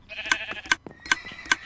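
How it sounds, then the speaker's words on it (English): Sheep in the Minecraft video game give four evenly spaced, nasal bleats, clear and close in a quiet scene. "Hello, sheep."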